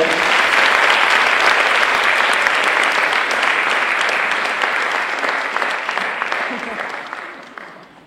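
Audience applause for a band at a film premiere gala, a dense sustained clapping from a large crowd that holds steady and then fades out toward the end.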